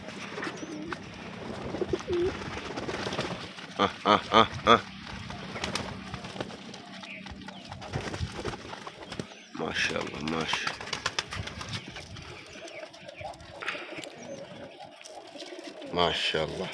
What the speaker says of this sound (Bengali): আমার সবগুলা কবুতর এখানে আছে সবগুলা খাবার খাইতে নামছে